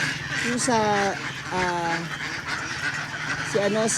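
Ducks at a park calling in several short honking quacks, close and loud, sounding in bursts at the start, middle and end, while people talk over them throughout.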